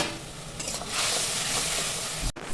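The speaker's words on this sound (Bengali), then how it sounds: "এরপরে মশলাটা আমি দশ মিনিট ধরে খুব ভালো করে কষে নেব" A masala with salt, turmeric and Kashmiri chilli powder fries in a pan, giving a dense close sizzle that swells midway, with a brief clatter near the end.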